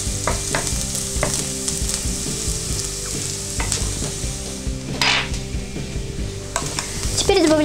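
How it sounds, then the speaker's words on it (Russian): Onions fry in oil in a pan over medium heat, cooking until translucent for chili con carne, with a steady sizzle broken by clinks and scrapes as they are stirred. "И обжариваем на среднем огне до прозрачности."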